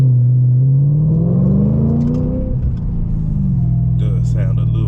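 A supercharged Audi B8.5 RS5 with a JHM exhaust rumbles loudly nearby, its deep engine note rising and falling through a rev before settling back to idle, with brief noises near the end.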